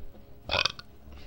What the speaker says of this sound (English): You just burped into a microphone.